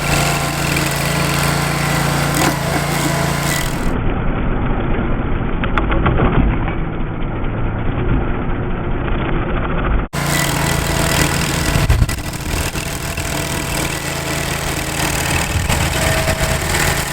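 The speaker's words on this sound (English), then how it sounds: "you saw that stump grinder can really handle the stumps without a problem." A rented stump grinder working on a tree stump, with its engine droning loudly and continuously at close range and shifting tone a few times as it bites into the wood.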